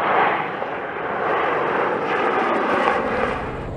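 Military aircraft engine in flight during evasive training manoeuvres, a steady, loud broadband roar that swells slightly and holds throughout, with no voices.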